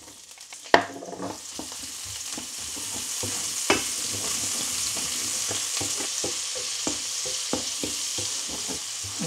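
Onions sautéing in butter in a pan used for steak, giving a steady close sizzle with a sharp drop-in at the start and repeated light scrapes and stirs throughout.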